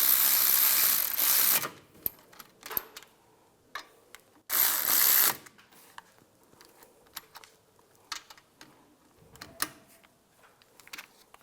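A ratchet tightens the front brake caliper bolts on a 1998-2010 Volkswagen Beetle in two loud bursts of rapid clicking, each lasting about a second, with scattered faint metallic taps and clicks between them.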